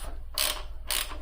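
A wrench ratchets as it tightens a bolt on a sloppy motorcycle shift lever, giving two short, close clicking bursts separated by a brief pause.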